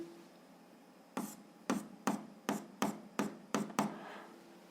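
A formula for the Archimedes force is written by hand during a seventh-grade physics lesson. About eight sharp, evenly spaced tapping strokes sound close and alone over a faint background hum.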